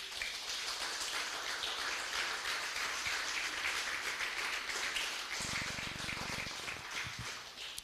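Church congregation applauding during a Spanish-language sermon; a broad, rain-like wash of many hands clapping holds steadily throughout, with a low buzzing hum rising briefly near the end.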